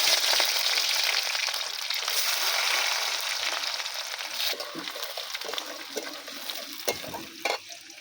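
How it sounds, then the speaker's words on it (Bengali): Chopped onions frying in mustard oil with cloves and whole garam masala, a steady broadband sizzle that is loud at first and eases slightly, with a few scrapes and knocks of stirring toward the end. "এখানে দেখুন পেঁয়াজটা আমি লাল করে ভেজে নিয়েছি"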